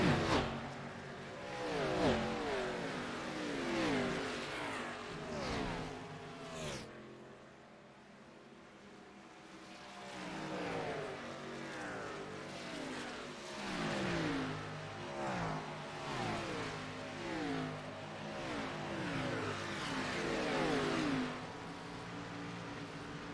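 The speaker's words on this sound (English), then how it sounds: "listen to these cars" NASCAR Xfinity Series race cars roar past at Homestead-Miami Speedway, a continuous loud engine drone with repeated rising and falling pass-bys and a brief lull midway, no talk over it.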